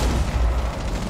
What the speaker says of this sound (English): Yeah, he's got a C4.